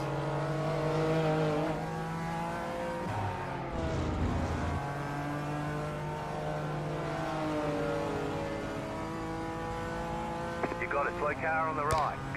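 BMW race cars in iRacing during a BMW M Power Tour race, engine tones rising and falling with gear changes under steady race commentary, ending with sharper bursts.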